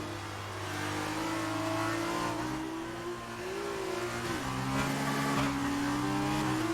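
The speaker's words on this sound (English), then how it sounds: "You can hear that gearbox working." An F2 race car in a video game revs hard through Monaco's streets, the engine note climbing and dropping with quick gearbox shifts, loud and continuous with a faint tire squeal.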